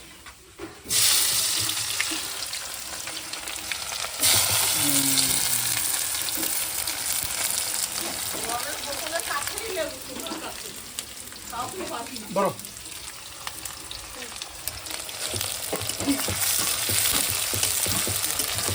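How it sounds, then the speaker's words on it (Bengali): Chopped onions frying in a pan at home, a steady sizzle with stirring scrapes and clatter while people talk nearby. "পেঁয়াজ ভাজা চলতে চলতে"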